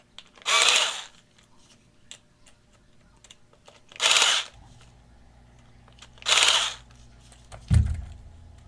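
A power driver tightens a screw on a 1/10 scale RC race car, giving three short, loud whirring bursts with pauses between them, then a brief low thump near the end. Nobody speaks.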